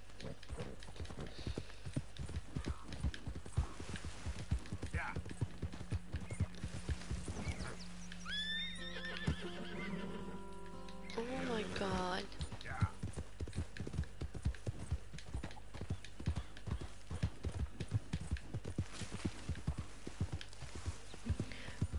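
A horse in the video game Red Dead Redemption 2 gives a long, clear whinny in the middle, set against a steady clip-clop of hooves that keeps going before and after it.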